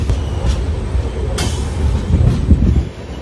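A new 2024-built LSP rake of a Southern Railway express rolls along the track, a steady loud rumble of wagons with a few sharp bursts of rail noise and rising clatter toward the end, no voices.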